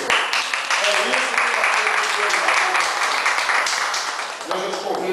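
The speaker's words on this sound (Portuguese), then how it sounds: "Vamos aplaudir o Senhor." A church congregation applauding during a worship service, a dense, steady roar of clapping that stays loud and continuous, dipping slightly toward the end.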